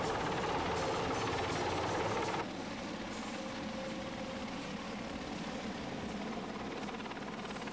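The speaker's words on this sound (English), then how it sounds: "The Royal Malaysian Air Force helicopter." A Royal Malaysian Air Force helicopter during a customs anti-piracy demonstration, heard as a constant loud rotor and engine roar that drops slightly in level partway through and continues as a steady, dense drone.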